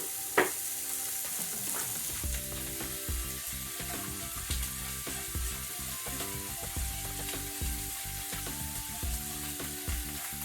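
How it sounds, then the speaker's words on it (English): Sausage patties frying in a pan, a continuous bright sizzle with occasional crackles and soft clinks of a whisk or utensil, steady and close throughout. "I'm going to go ahead and put my sausage patties on."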